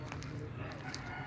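Chickens and a rooster in a backyard flock, with clucking and crowing calls blended into a steady low murmur of farmyard noise and faint voices, moderately distant.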